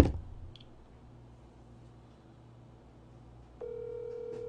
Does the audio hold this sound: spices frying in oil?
no